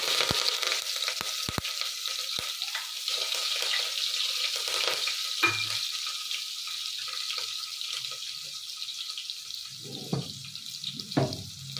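Onions and curry leaves fry in a pan for brinjal kurma, a steady hiss and crackle with a few sharp clicks and soft stirring knocks near the end, no talking.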